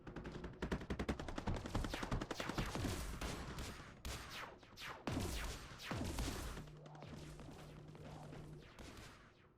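Zenith units in Mindustry fire steadily at a fort, a dense stream of rapid, crackling shots and bursts that fades somewhat toward the end, with a steady hum underneath.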